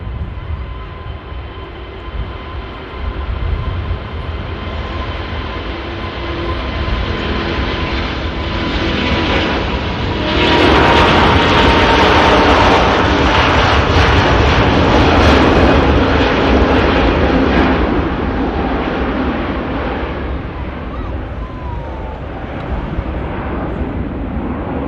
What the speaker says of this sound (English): A380 on the way out.